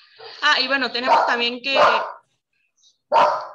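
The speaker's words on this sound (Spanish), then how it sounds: "Perdón por el ladrido." A dog barks indoors in a short cluster of yelping barks during a spoken lesson, and a person begins talking right after.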